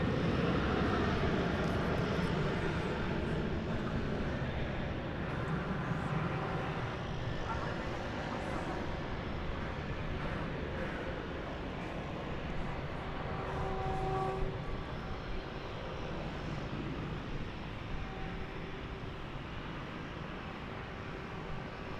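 An American Airlines jet takes off from runway 18 Left at Dallas/Fort Worth airport, a steady, loud broadband engine roar holding for the whole stretch without fading.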